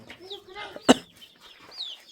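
Chickens cluck softly around a rural home, with one sharp, loud squawk in the middle and scattered quieter clucks before and after.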